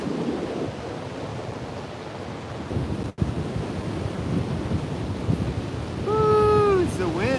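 Cold wind blows in a steady roar, close and fairly loud, with a brief dropout midway and a whooshing swell near the end.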